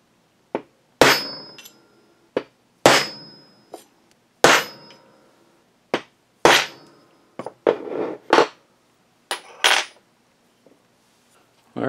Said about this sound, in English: just give it a little whack, and that'll give you a centering punch